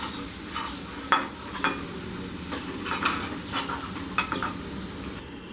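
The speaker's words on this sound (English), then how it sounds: "Turn the potatoes and fry it on all sides." Potato pieces frying in hot oil in a pan, a steady soft sizzle broken by repeated scraping and clinking from a spatula as they are turned, close and clear with no talk.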